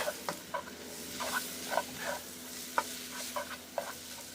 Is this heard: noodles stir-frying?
yes